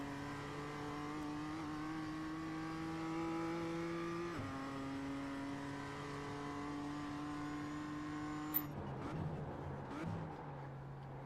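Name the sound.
Mazda MX-5 race car engine in iRacing video game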